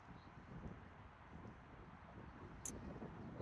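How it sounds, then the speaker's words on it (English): Breeze buffeting the microphone beside San Francisco Bay, a low continuous rumbling gust that stays faint and steady, with no voices. "oh, it's breezy."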